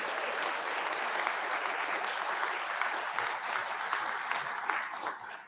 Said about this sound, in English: Give them a round of applause as well.